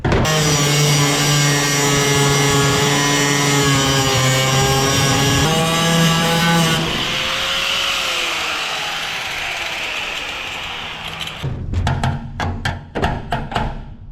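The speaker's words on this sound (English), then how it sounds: "maybe we'll use the grinder to get the last of it." Angle grinder working metal, a loud steady whine for several seconds that fades into rougher grinding, then ends in a run of short, sharp bursts.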